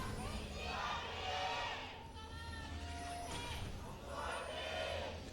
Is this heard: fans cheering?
yes